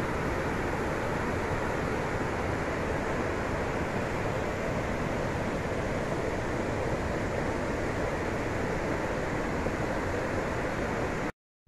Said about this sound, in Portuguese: É uma cachoeira linda.